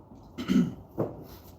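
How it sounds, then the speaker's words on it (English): A steady, crackling sizzle of onions frying in hot oil for horse gram rasam, with a spoon stirring and scraping the pan up close. "So I'm a little coughing a little bit because of that cold weather"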